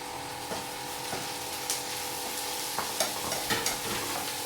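Soft, steady sizzle of beans frying in a pan with coconut and onion, broken by light scraping and tapping as a spoon stirs now and then, heard close and quiet.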